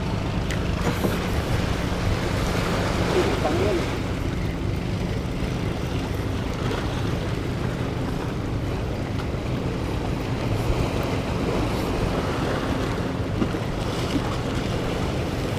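Steady wash of sea waves in Manila Bay with constant wind rumble, continuous and fairly loud throughout, no voices.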